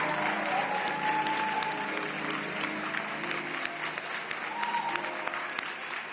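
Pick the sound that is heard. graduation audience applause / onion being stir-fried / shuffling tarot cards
graduation audience applause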